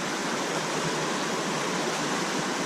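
Creek swollen and raging after rain, a steady loud broadband rush of fast water with no break or voices, filling the whole short stretch close by.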